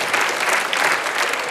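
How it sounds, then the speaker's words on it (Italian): Audience applause at a live stand-up comedy show, a dense, loud burst of clapping from a crowd, continuous throughout. "l'applauso più facile della storia"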